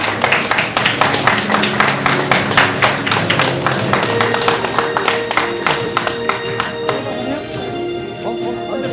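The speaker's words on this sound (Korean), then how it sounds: "여러분 큰 박수 부탁드립니다." Audience applause at a Korean national informatization cooperation ceremony, a dense burst of many hands clapping that rings out loud, then thins and fades over several seconds, with a voice speaking over it.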